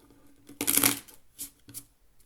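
Playing cards are riffled in a quick burst, followed by two short softer shuffling ruffles, close up and without talk.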